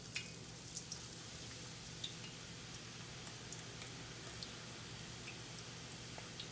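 Funnel cake batter frying in hot oil at home, a faint, steady crackle and sizzle with scattered small pops throughout.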